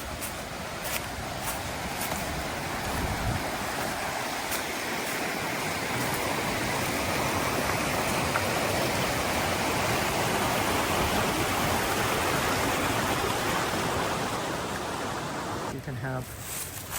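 A Smoky Mountains stream rushes under a bridge, a dense, steady broadband roar of flowing water that holds constant and loud throughout.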